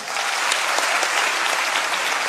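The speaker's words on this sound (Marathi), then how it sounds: "एकदा विचार मंचासाठी जोरदार टाळ्या होत्या." Audience at a public speaking event bursts into loud, sustained applause, dense clapping from a large crowd.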